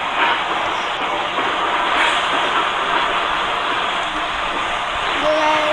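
A train rumbles through a video game, giving a loud, steady wash of broadband noise and hiss that holds evenly for the whole stretch with no speech.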